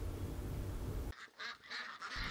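Dai Xuyen 15 sea ducks kept on a cooperative farm in coastal Tien Hai district, Thai Binh, Vietnam; a dense low flock din gives way to a few loud, nasal honking quacks close by.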